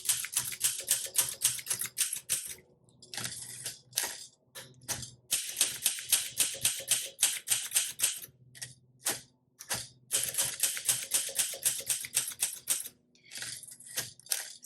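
Bursts of brisk typing on a 1962 blue Olympia SM7 manual typewriter, sharp close key strikes and clacking mechanism in rapid runs, separated by short pauses and occasional single keystrokes.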